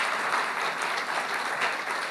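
An audience at an evening talk on planning the town centre claps steadily in a room, a dense, even wash of applause that holds for about two seconds with no voices over it.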